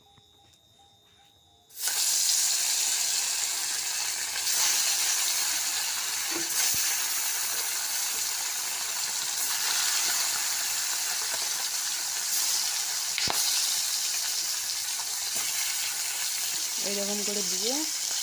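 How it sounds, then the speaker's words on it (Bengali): Marinated fish slides into hot oil in a kadai and erupts into a loud, broad, hissing sizzle that holds steady and close for about sixteen seconds, with a few faint clinks in the background. "যতক্ষণ এদিকে আমার মাছ ভাজা হচ্ছে"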